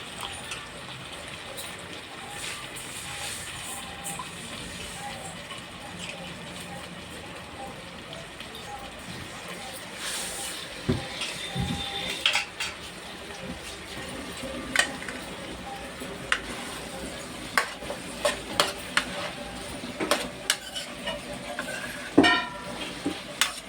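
Chopped onion and bozzara leaves fry steadily in a pan for potato masala, a continuous low sizzle with occasional clinks and scrapes of a stirring utensil, while a voice talks over it.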